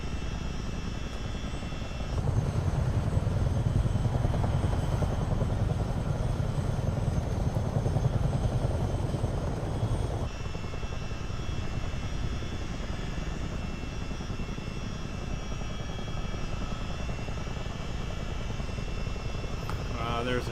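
CH-47D Chinook helicopter in a multiplayer flight game, its engine and rotor droning steadily and loudly, swelling as power comes up during the takeoff run, with a voice talking over it.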